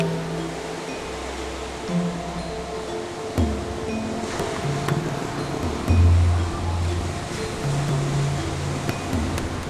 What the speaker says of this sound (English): Pretty good point break with some swell coming through.